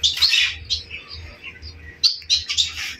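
Society finches in an aviary, giving bright high chirps and tweets in quick bursts, close by, with a low rumbling background underneath.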